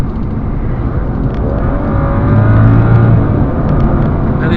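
Turbocharged straight-six of a 2011 BMW 535i M Sport under kickdown acceleration, a steady loud engine drone that swells and climbs in pitch from inside the cabin, with no talking.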